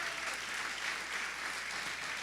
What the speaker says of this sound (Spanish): Aplauda al pueblo de Dios